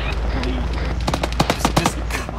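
Rapid machine gun fire from a BTR armored vehicle in a military video game, a burst of sharp cracking shots over a low engine rumble, with voices talking in the background.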